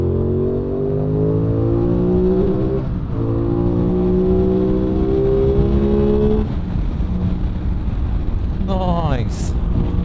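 An Aprilia Tuono 660 motorcycle accelerates hard through several gears, its engine note rising in repeated sweeps with brief dips at each shift. Strong wind rushes across the microphone throughout.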